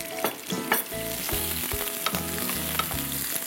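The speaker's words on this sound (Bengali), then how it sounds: "তেলটা তো গরমই আছে, পেঁয়াজ কুচি আছে এখানে আমার হাফ কাপের মতো, পুরোটাই দিয়ে দিচ্ছি" Chopped onions hit hot oil for a Bengali fish curry, producing a steady, dense sizzle up close with a few scraping stirs and no voices.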